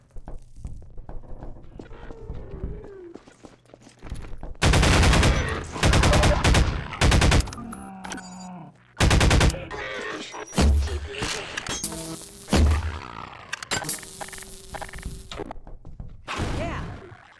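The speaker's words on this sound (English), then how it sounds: "The orbital friendship cannon sounds great." Heavy orbital cannon blasts in Half-Life 2 Episode One, very loud broadband bursts arriving in clusters between quieter stretches, with a few thuds and rattles around them.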